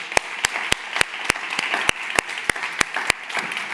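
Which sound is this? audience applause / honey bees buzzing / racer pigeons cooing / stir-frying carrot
audience applause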